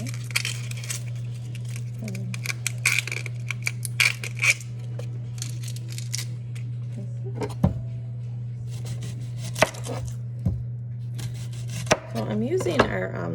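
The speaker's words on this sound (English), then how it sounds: "Then I'm gonna cut my onions. I'm actually gonna use our simple slice to do that" Onions are chopped with a Pampered Chef Simple Slice on a large grooved cutting board, giving a series of sharp, irregular chopping clicks and thuds over a steady low kitchen hum, close by.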